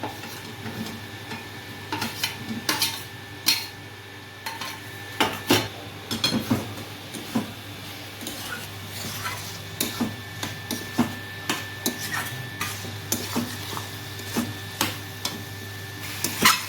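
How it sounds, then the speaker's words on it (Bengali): Potatoes are stirred into fried masala in a pan with a metal spatula, making repeated close scraping and clinking strokes in an uneven rhythm over a low steady hum. "এবার আমি আলুগুলো দিয়ে দেবো"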